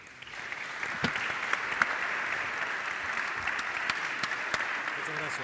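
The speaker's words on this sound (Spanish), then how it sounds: "Los despedimos con un aplauso y terminamos" Audience at a world business congress in Cleveland applauds, a dense, sustained wash of many hands clapping that swells in at the start and holds steady, with occasional louder claps and a voice faintly underneath.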